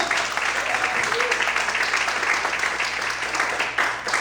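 A church congregation claps in praise during a sermon on Psalm 91, producing a thick, continuous roar of applause that holds steady throughout.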